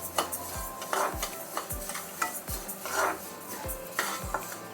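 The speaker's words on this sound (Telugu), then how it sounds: "ఫస్ట్ అవిసె గింజలు ఫ్రై చేసుకుందాం అన్న." Flax seeds dry-roast in a pan while a utensil stirs them, producing a rhythmic scraping about once per second over a soft crackling sizzle, close and moderately quiet.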